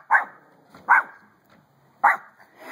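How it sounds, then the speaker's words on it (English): A Pomeranian with a lion cut barks three sharp, loud times at uneven intervals close by, with a faint yip between them and no talking. "The fearsome Pomeranian with the lion cut."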